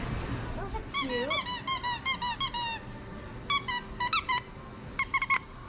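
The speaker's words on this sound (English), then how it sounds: "Each arm and leg has a squeaker." Squeakers in the arms and legs of a plush dog toy at a pet store are squeezed repeatedly, giving shrill rubbery squeaks in quick rhythmic runs and short bursts, close and loud.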